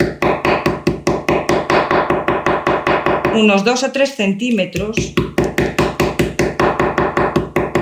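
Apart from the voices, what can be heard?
small hammer crushing flower stems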